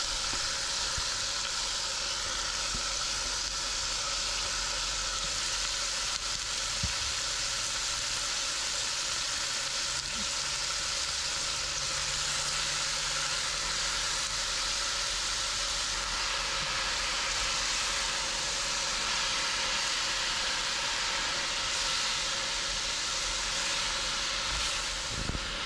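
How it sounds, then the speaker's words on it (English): Spinach wilting in a pan alongside pesto ravioli gives off a steady, even sizzle and hiss of steam that holds at a constant moderate level throughout, with no voices. "We're just going to cook until the spinach has wilted."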